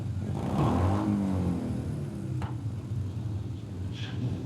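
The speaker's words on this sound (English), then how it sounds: "That's motorcycles are making all that noise out there." Motorcycles of the ABATE unit rumble past in a 1996 St. Patrick's Day parade in Woodbridge, a low, steady engine drone at moderate distance under faint crowd ambience.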